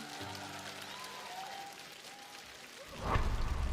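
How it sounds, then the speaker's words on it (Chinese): Studio audience applause on a TV singing competition, a soft low wash of clapping that swells louder near the end, with a faint tonal hum underneath. "所以我们再次把热心掌声送给二位"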